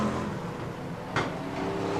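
BriSCA F1 stock cars racing at Skegness in 1994, engines droning at a distance with a brief louder burst as a car streaks past near the start and finish line.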